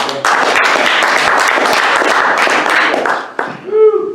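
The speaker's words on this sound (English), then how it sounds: "Give a big round of applause." Applause from an audience at a Wise Counsel talk, a dense burst of clapping lasting several seconds before fading out, with a voice briefly heard near the end.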